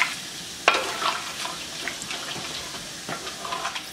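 Whole spices such as cardamom fry in hot oil on a high flame, making a crackling sizzle, with sharp clatters of stirring at intervals and a few lighter taps.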